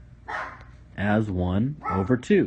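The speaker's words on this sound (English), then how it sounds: "That's my dog in the background barking and making a cameo appearance here." A pet dog barks in the background of an indoor space, with a few short yips and barks under and between a man's close, clear speech.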